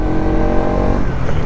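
A car cruising along a wide highway, with a steady close engine drone and road rumble and no voices.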